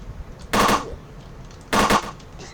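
Two loud, separate bursts of gunfire ring out in a Roblox zombie shooting game, about a second apart, each sharp and short, over faint background game noise.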